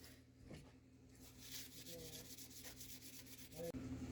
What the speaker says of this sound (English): I like to burnish it with some wood shavings